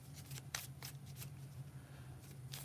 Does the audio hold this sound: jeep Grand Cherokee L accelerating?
no